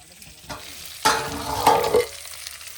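Fish heads fry in oil in a wok outdoors by a canal, giving a loud sizzle broken by clattering stir strokes and scrapes in uneven bursts, with no talking.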